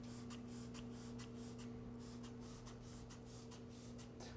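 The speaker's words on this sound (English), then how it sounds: "all you have to do is simply spray a nice fine coat onto the surface" Waterless wash is sprayed in quick, repeated bursts onto a car surface, a series of soft hissing spritzes in a steady rhythm, close and faint.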